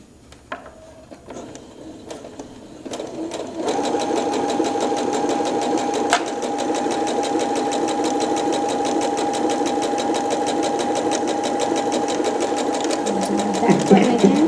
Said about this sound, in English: we're just going to make one more stitch so you guys can see.